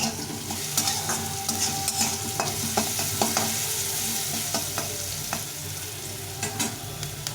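Vegetables for veg chow mein fry in a pan with a constant sizzle, while a utensil stirs and scrapes against the metal in repeated sharp clinks. No one speaks.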